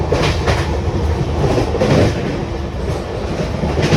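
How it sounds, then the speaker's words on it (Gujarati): A train from Ahmedabad to Indore rumbling along the rails, with a steady loud roar and faint rhythmic clatter from the wheels, heard from inside a three-tier AC coach. "આ ટ્રેનમાં અમે જઈ રહ્યા છીએ અમદાવાદથી ઇન્દોર"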